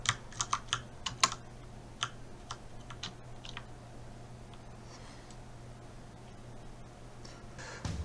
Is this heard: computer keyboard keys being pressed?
yes